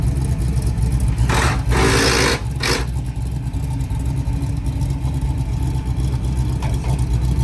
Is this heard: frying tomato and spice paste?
no